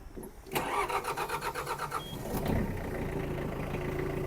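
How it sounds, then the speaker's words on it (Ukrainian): A Mitsubishi MT-285 mini tractor's diesel engine cranks with a rapid rhythmic chugging after glow plug warming, then catches and settles into a steady idle nearby. "тракторець завівся"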